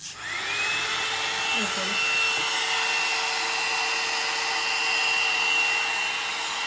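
A hot air brush switched on, blowing with a steady whirring hiss and a faint high whine, continuous at close range, with a brief spoken word near the start.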